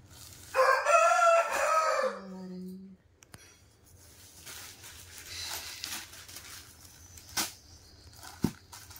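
A rooster crows loudly nearby, one long strained call, followed by quieter rustling, a few faint clucks and a sharp knock.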